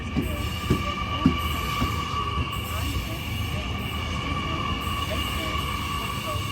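A long 10-car train rolls through Penshurst station with a continuous rumble, wheel squeal and clacking, while a station announcement and talk run over the top.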